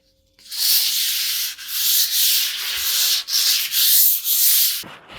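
Hand sanding of a wooden dresser using a sheet of orbital sander sandpaper gives a loud, close rasping scrub in repeated long back-and-forth strokes with brief pauses between them, with no speech.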